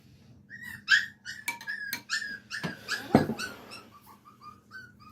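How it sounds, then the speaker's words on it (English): A small puppy whimpers and squeaks in a series of high, thin cries, close and fairly loud in a quiet room, with a few brief yips and low growly noises mixed in. "What's this, your little puppy?"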